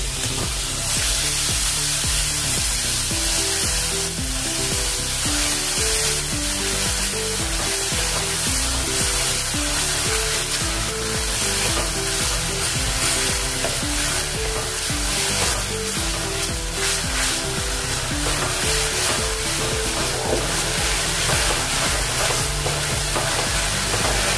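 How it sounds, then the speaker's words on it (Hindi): Finely chopped tomatoes frying with spices in oil for aloo baingan sabzi, a loud continuous sizzle close up with background music playing throughout. "इसको भी हमने 1 मिनट भून लिया है, टमाटर को भी"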